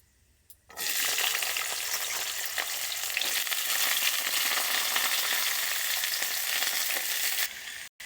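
Jackfruit seeds, potato and spiny gourd sizzle steadily in hot oil after dropping into the pan, a loud continuous frying hiss that starts abruptly and cuts off near the end, with no talking.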